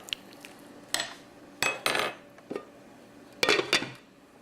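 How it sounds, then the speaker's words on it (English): A spoon stirs and knocks against a pot of homemade vegetable beef soup, giving several sharp metallic clinks and scrapes at irregular intervals, close by and with no talk. "we'll go ahead and stir this up"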